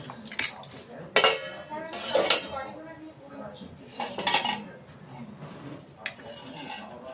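Metal clatter as a lid comes off a pot of Bengali-style rohu fish curry, a few sharp clanks and scrapes of cookware in close succession, with quieter rattles between them.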